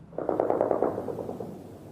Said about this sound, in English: Occasional gunfire ripped through the air.